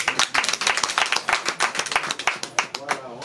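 An audience applauds at a French talk, a quick run of close, crisp handclaps in a dense, steady rhythm.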